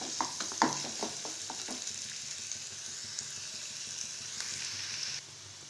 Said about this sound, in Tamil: இது வந்து நல்லா முறுமுறுன்னு வறுத்துக்கோங்க